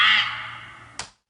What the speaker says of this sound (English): Screech owl,